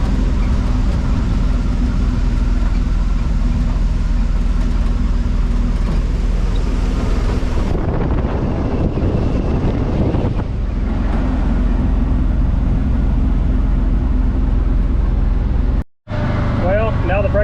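A 1980 Chevy C70 truck drives down the road, its engine a loud, steady low drone mixed with heavy wind buffeting the microphone. The rumble shifts partway through and a brief dropout comes near the end.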